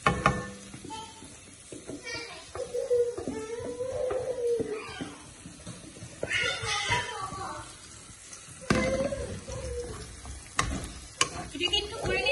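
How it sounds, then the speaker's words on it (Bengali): Chicken gravy frying and being stirred in a pan at home, a soft crackling sizzle with intermittent spatula scrapes and clinks, while people talk and children's voices drift in the background. "এটাকে একটু ভাজা ভাজা পোড়া পোড়া হবে।"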